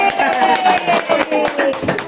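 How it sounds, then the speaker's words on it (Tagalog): A crowd applauds at a birthday celebration, with steady dense clapping filling the space over a background of music or voices. "Palakpakan naman natin."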